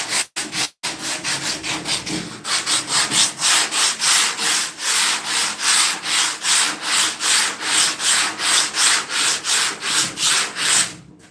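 Car fender bodywork being hand sanded with sandpaper, a loud, rhythmic back-and-forth scraping of even strokes repeating steadily and close up.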